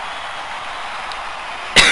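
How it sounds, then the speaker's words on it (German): A single short, sharp cough near the end, standing out over a steady hiss of background noise. "Ich hab Husten."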